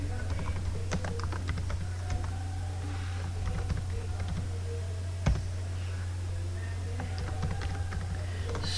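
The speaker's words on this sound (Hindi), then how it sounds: "सो अब हम इसमें नाम एंटर करेंगे।" Names being typed on a computer keyboard make a brisk, uneven patter of close key clicks that runs throughout, with one louder keystroke partway through.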